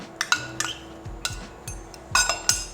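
Chopped onions and pounded garlic tipped into a cooking pot for a vegan fish curry, with several sharp clinks and clatters of a utensil against the metal pot in quick, uneven bursts, close and fairly loud.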